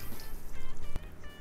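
Soy sauce being poured into a bowl for peanut butter chicken wing sauce, a short close gurgling trickle of liquid with a brief knock near the end.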